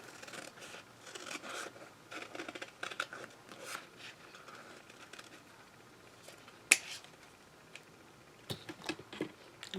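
Scissors cutting out a decal for a UV resin heart ornament, a steady run of small close snips and crisp clicks, one sharp snap partway through, quiet and without talk.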